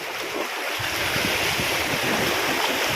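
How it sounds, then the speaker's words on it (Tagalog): Heavy surf roaring continuously on a sea shore, large waves crashing close by with a constant wash of water and wind noise. "Ang lalaki ng alon."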